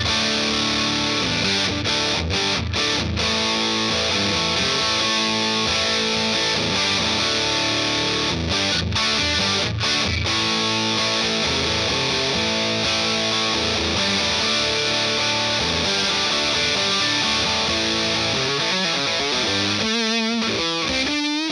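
A distorted electric guitar played through a ProCo Rat 2 distortion pedal plays chords and riffs with thick, saturated tone, with brief stops between phrases and a wobbling, warbling effect near the end.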